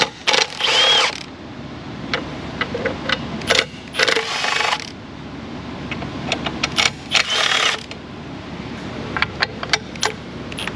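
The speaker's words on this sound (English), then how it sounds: "got a 3/8 socket on an impact here" An impact wrench fitted with a 3/8 socket, used on a CAT 3406 or C15 diesel engine during injector work, fires in repeated short rattling bursts with pauses in between.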